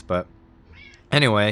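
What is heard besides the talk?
pet cat Stewie meowing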